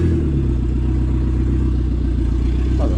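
Dodge Caravan minivan with a swapped SRT4 engine, rolling in reverse as the clutch comes up, its engine droning low and steady up close with a faint clatter.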